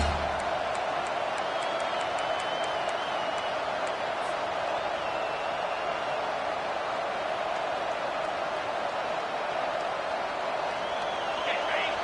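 A football stadium crowd roars behind the defense on a big third down, a loud, unbroken wall of cheering with faint whistles riding on top.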